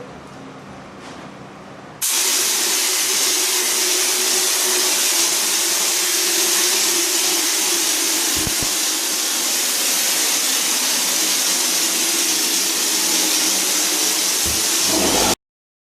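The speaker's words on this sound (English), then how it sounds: "It's a pretty heavy paint sprayer" A hopper sprayer blasting wall texture in a continuous loud, close hiss of compressed air and spray that starts abruptly after a short low hum and runs steadily until it cuts off.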